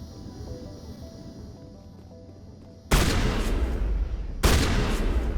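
Two loud bursts of gunfire in Mass Effect 1 Legendary Edition, the first about halfway through and a second a moment later, each sustained and crashing after a quiet stretch of faint tonal game sounds.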